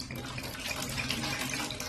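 Pure red wine is poured into a vessel, making a close, continuous gurgling splash of liquid that fills the full two seconds at moderate volume.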